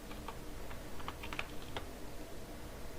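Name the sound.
typing on computer keyboard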